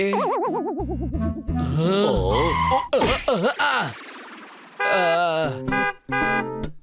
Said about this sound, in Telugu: వీడు ఎందుకు ఇలా హార్న్ కొడుతున్నాడు